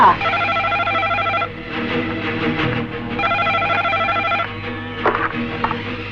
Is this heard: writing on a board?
no